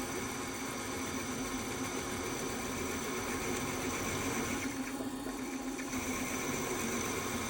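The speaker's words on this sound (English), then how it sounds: "So that's the quarter reamer, slowed down, suitable amount of cutting fluid on there." A quarter-inch reamer turns slowly through a hole that is mostly steel with some brass, lubricated with cutting fluid, giving a steady machining whir and hum that stays at an even level throughout.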